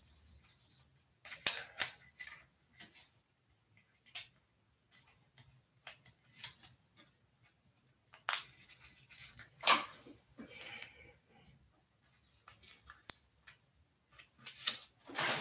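Bandage adhesive being peeled back over a post-surgical open wound, heard as a series of short crackly rips and ticks with pauses between them, close and fairly quiet, with no talking.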